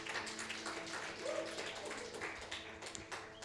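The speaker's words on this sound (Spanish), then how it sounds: "apláudanle, no sean malos." A church congregation at a Pentecostal service applauds a brother, scattered hand claps pattering faintly and steadily through the room over a low background hum.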